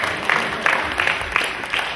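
Scattered clapping rises in short bursts from a small audience at a regional Shinkyokushin karate championship award ceremony, moderately loud with brief pulses of crowd noise.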